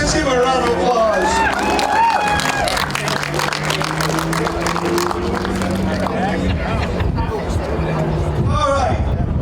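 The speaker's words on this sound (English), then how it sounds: "Let's give a round of applause." Crowd applause and cheering at a Daytona race trophy ceremony, dense clapping and hubbub throughout, with a loud voice talking over the crowd.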